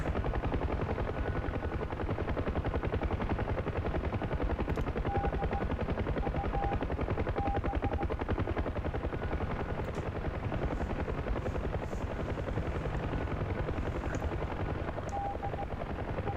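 An UH-1 Huey helicopter in DCS drones with a constant heavy rotor and engine roar, steady and loud throughout, with no distinct gunfire standing out.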